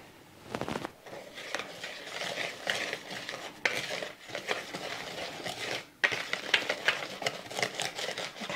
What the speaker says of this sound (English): And so I'm going to mix this all up.